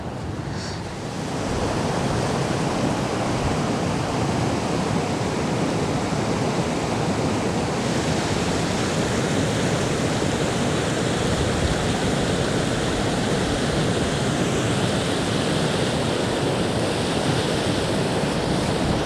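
A river on Dartmoor rushes through a deep hole in the rock, making a loud, steady roar of churning water that holds at the same level throughout and is heard alone.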